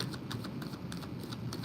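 A single deck of playing cards is shuffled outdoors, a fast steady riffling patter of card edges lasting a moment, close and moderately loud, with no talking.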